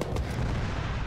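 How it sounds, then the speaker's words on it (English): A heavy airstrike blast lands on a T-90 tank in a military combat game, a dense, booming low rumble that fills the whole moment with sustained roaring energy and no speech. "There's a GPU dropping on that T-90."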